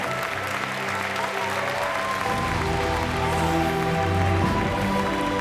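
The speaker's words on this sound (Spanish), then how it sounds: "¿has visto ese aplauso para esos vecinos tercer clasificado" Audience applause at a televised gala for the village finishing third, a dense, sustained clapping from a large crowd with music playing underneath.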